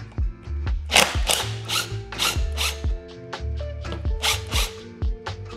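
Someone works on a Onewheel Pint X, unscrewing its T30 screws with a tool, giving a series of short ratcheting clicks and scrapes in an irregular rhythm, close up and fairly quiet, with no voices.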